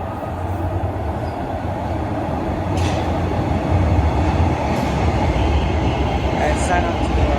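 A TTC subway train pulls into Highway 407 Station with a loud, steady rumble that carries through the whole stretch and swells slightly partway through.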